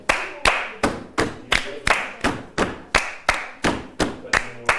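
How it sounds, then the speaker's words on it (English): Hands clap in a steady, even rhythm, about fourteen sharp claps in under five seconds, part of a hand clapping game played by a group of people in the Big Brother house. "I don't know this clapping thing."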